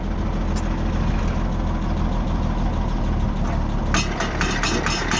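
A tractor engine idles during hay work, a steady low rumble running throughout, with a short clatter of rattling near the end.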